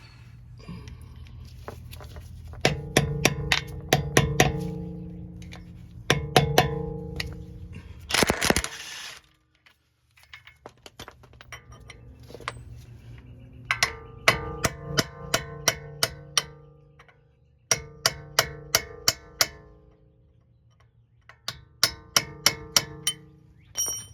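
Sharp metallic taps of a hammer striking a screwdriver to bend back the staked 36 mm front CV axle nut on a Honda Pilot, coming in quick rhythmic bursts of ringing clinks separated by short pauses, close and loud with no talk.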